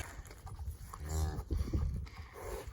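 A cow moos right after calving in a barn chute, one deep drawn-out bellow up close, followed by softer grunting lows.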